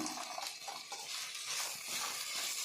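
Field beans (avarekaalu) and chopped onion frying in a pan for upma, with a steady broadband sizzle and scraping stir strokes running throughout at close range, no voices.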